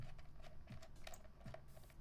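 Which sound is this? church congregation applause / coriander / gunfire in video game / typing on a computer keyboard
typing on a computer keyboard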